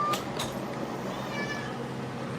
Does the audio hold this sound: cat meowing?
yes